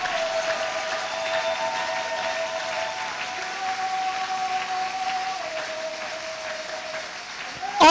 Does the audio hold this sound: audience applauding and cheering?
yes